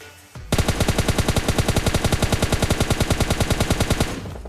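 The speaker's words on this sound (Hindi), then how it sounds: "वो बॉट फायर कर रहा था इस बंदे के ऊपर" Automatic gunfire in the PUBG Mobile Lite video game, a long rapid burst of evenly spaced loud shots that starts abruptly and runs for about four seconds before stopping, close and dominant with no talking.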